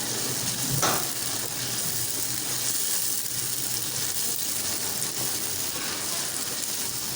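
Mutton liver frying in a pan with a tablespoon of garlic ginger paste, a loud, dense, continuous sizzle up close, with occasional stirring scrapes.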